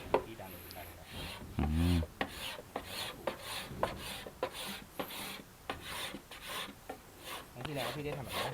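Wood being scraped by hand while building a guitar, a series of short rasping strokes repeating close up, with speech breaking in between strokes.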